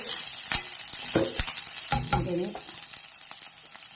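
Curry leaves dropped into hot oil for a Kerala-style ginger curry, sizzling and crackling steadily with a few sharp pops and a spoon stirring in the pan.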